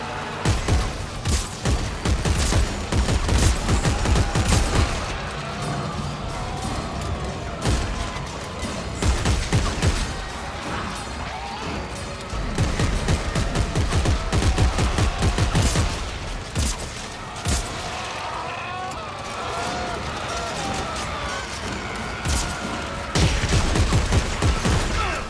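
Dead Space 3 gameplay with dense, continuous gunfire and booming blasts across the whole stretch, loud and close, mixed with game effects and sounds from creatures.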